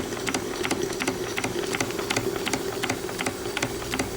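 Small 1853-style Watt beam steam engine of walnut hardwood, with a hardwood governor pulley and eccentric strap, running steadily; rapid even clicking and ticking beats over a constant mechanical hum, close and moderately loud.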